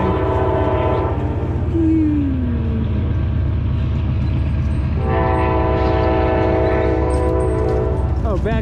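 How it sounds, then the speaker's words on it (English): A train rumbles steadily past while its horn sounds in two long, loud blasts, outdoors near a tree-trimming job by water; the passing is close and continuous, and someone speaks briefly over it. "There's a choo-choo train."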